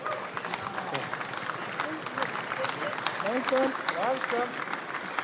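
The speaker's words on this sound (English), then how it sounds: "when he's out, give him a good round of applause." A crowd at a rescue challenge run-off applauds a fire brigade team, scattered clapping under a man giving commands in German, with crowd noise in the background.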